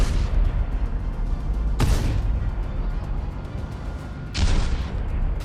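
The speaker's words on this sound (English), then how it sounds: "The tank gets close to the target, aims its gun at the windows on the first floor, and fires" A Leopard 2 tank fires its main gun at a building in Pokrovsk, giving two heavy booms a few seconds apart over a constant rumbling background.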